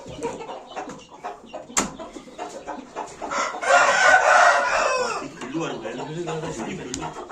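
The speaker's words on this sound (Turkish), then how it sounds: "burada da kar horozumuz var" A rooster crows once, long and loud, amid scattered clucks and bird noises, with people talking nearby.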